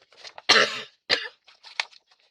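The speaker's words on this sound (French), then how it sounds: "Aujourd'hui, c'est je tousse, je tousse, je tousse." A few close coughs: one loud, rough burst, then a shorter cough and a couple of fainter, throaty follow-ups.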